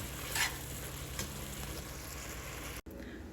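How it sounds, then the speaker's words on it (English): Philly cheesesteak beef stirred in a hot pan, a steady close sizzle with a couple of scraping strokes, cutting off abruptly near the end. "I'm going to give it a good stir here."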